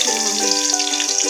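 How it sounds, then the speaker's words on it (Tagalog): Garlic sautéing in a pan for a stir-fried bitter gourd (ampalaya) dish, a bright continuous sizzle with a watery hiss and a tonal hum running beneath, close and steady. "Gisahin na yung bawang."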